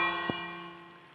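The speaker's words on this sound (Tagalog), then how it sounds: "may nagdingdong ng bell ah" A single bell chime rings in Minecraft survival play, one brief strike with a long, ringing tone that slowly fades.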